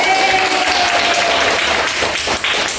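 Classroom audience applauding at the close of a school lesson, steady dense clapping that fills the room throughout, loud and close.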